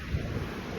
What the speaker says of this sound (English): this wind is annoying, I'm sorry guys